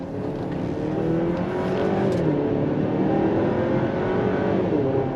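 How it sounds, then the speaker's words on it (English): Turbocharged four-cylinder engine of a 2026 Buick Enclave midsize SUV pulling hard under acceleration, a loud steady drone with rising pitch and some whoosh, heard from inside the cabin without talk. "Remember, there is no V6 option, so you are going to get that 4-cylinder turbo sound."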